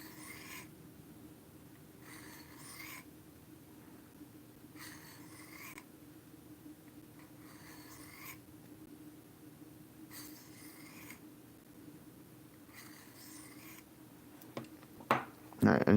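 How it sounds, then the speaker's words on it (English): A knife is sharpened on a DMT coarse grit stone, rhythmic rasping strokes repeating about every two seconds, soft and close, with a few louder knocks near the end. "I'm going to start with a DMT coarse grit stone, and I'm just going to start"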